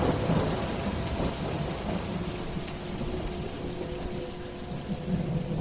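Thunder rolls through a heavy rainstorm, a loud, dense rumble over steady pouring rain that stays near and intense throughout, with no voices.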